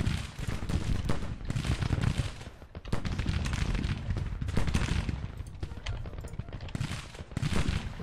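Rolling musket gunfire from a Civil War battle in the strategy game Grand Tactician, many overlapping crackling volleys at moderate distance, swelling and easing in waves with no voices over it.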